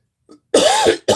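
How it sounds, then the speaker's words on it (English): Two short coughs, close and loud, after a faint throat noise, with a brief silence between them. "Sorry about the coughing."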